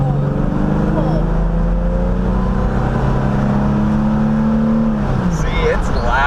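A car engine fitted with a cold air intake drones and revs as the vehicle drives over gravel, loud and steady, with a voice talking over it and the engine note shifting near the end.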